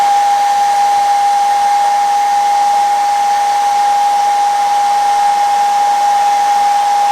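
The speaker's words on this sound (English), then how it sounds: "A good way to dry your baits off quick if you want to move to the next color, using a hair dryer." A hair dryer blows on freshly painted crankbait fishing lures, a loud constant whir with a steady high whine and broadband rushing air, unbroken throughout with no talk.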